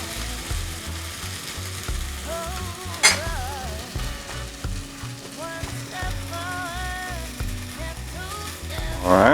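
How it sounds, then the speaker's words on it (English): Callaloo sautés in a pan with a constant, close sizzle, punctuated by scraping and rattling from stirring and a sharp clank near the middle. "I believe this is enough sauteing"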